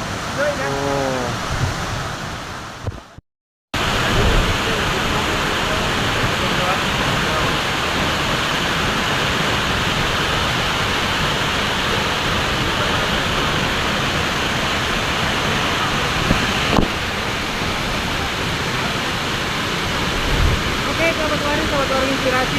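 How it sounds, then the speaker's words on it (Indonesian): A waterfall on Lombok rushes as a constant loud roar after a brief pause, with people talking near the start and end. "Ini air terjun apa Pak namanya?"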